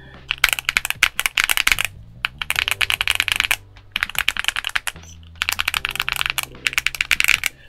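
Typing on a modded Poseidon PSD65 65% mechanical keyboard, tray mounted, a close, crisp run of rapid clacking keystrokes in several bursts separated by brief pauses, with deeper thocks from larger keys between them.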